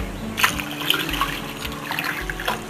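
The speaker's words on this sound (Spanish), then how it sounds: "ahora ya bien guisadito, le vamos a echar agua para que ya empiece a sazonarse bien." Water pours into a cooking pan of stewed vegetables, giving a steady close splashing trickle that runs for nearly three seconds with slight surges.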